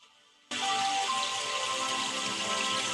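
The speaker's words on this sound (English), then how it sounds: "Now what you hear is music, raindrops" Dense, steady raindrop patter in a theta-tone meditation music track, starting abruptly after a quiet half-second lead-in with a faint tonal layer, then filling the sound evenly and loudly with no voices.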